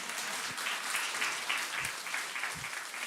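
A church congregation at a Thanksgiving service applauding steadily, a dense patter of clapping at moderate distance, with a few low thumps underneath.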